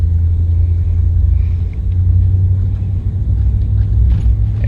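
Ram 1500 pickup truck rolling up a road, heard from inside as a steady, loud low-frequency engine and road rumble with no speech.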